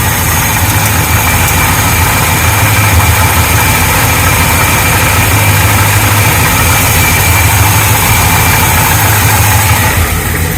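Square-body truck engine idling after a cold start, a loud, steady, close-up rumble that holds without a break and carries no speech.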